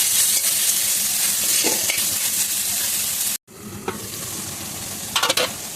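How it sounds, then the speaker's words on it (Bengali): Taro flowers and prawns sautéing in a pan give a steady, close sizzle with stirring scrapes throughout, briefly cut off mid-way before the frying resumes and a few sharper clinks near the end. "এবার আমি খুব ভালো করে সাতলাবো"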